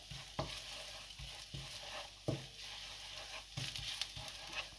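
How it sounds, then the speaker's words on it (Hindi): Garlic frying in a pot, a low sizzle broken by a few distinct stirring scrapes spaced a second or two apart, fairly quiet and close with no voices. "लहसुन तकरीबन हमारा फ्राई हो चुका है।"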